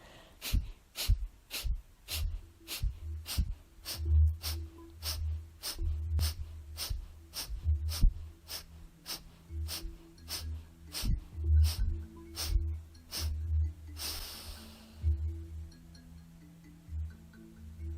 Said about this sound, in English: short, sharp breath out of the nostrils